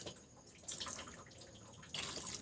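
A little water poured into a pot of pinangat fish stew with vinegar, onion, ginger and garlic, a soft, faint trickling splash in two brief bursts, near and quiet.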